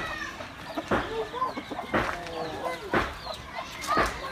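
Chickens at a grandmother's house cluck and murmur nearby in short repeated bursts, with a person talking in between.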